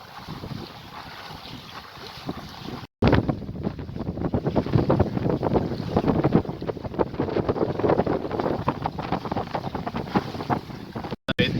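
A sailboat with a badly fouled hull moves offshore on the River Stour, with steady rushing water along the hull and heavy wind buffeting the microphone, loud and continuous with no voices.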